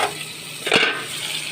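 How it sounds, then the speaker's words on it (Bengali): Mussel meat sautéing gently on a low flame, a soft continuous sizzle with one brief louder scrape or stir in the middle, close by and without talk. "একদম হালকা ফ্লেমে কষিয়ে নিচ্ছি আমি"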